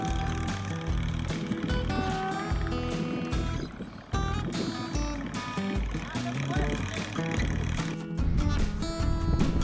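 A restored 30-year-old riding lawn mower drives on its first run, its small engine chugging loudly and steadily close by, with uneven surges and brief dips in power.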